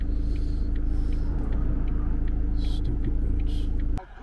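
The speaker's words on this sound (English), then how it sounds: "There's a car coming." A car rumbling along a country road, a loud, steady low engine drone that stays close for about four seconds and then cuts off abruptly.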